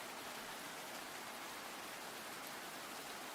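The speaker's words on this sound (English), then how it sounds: "now you have some rain ambience going in the background" Steady rain ambience playing in the background, a continuous even hiss of falling rain with no voices or other sounds on top.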